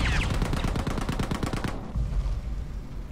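Bren light machine gun firing in Battlefield 5, a fast, steady automatic burst of loud shots for nearly two seconds, then stopping as battlefield ambience carries on.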